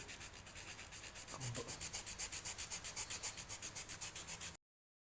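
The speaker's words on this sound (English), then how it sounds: "don't forget to use a fine sandpaper to refine back" Fine 180-grit sandpaper rubbing the surface of XPS foam in steady, rhythmic back-and-forth strokes, close and fairly quiet, for about four and a half seconds before stopping.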